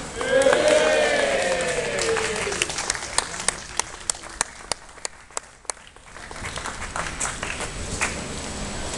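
A crowd gathered for the Liberty Cap at a Peterloo memorial event claps and cheers. Voices swell early, then loud individual claps ring out at a steady beat before the noise settles into a broad, continuous murmur.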